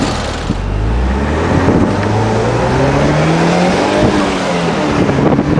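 A 2008 Pontiac Solstice GXP convertible pulls away under steady, loud engine acceleration, its rising revs sweeping upward through a gear, heard up close with wind and road noise and no talking.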